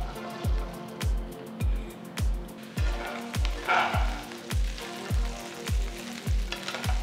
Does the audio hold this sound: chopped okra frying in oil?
yes